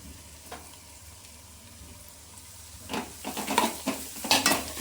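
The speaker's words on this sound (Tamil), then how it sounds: "உருளைக்கிழங்கு போட்டு நல்லா கிண்டி விட்டுக்கலாம்." Vegetables and potatoes sizzle and fry in a pan while a spoon stirs them, soft frying hiss at first, then louder scraping and stirring clatter toward the end.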